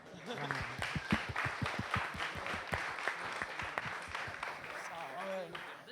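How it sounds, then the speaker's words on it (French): Audience applause at a talk about video games, a steady wash of many hands clapping at close range, with people talking over it throughout. "Allez, ouais, allez, un applaudissement"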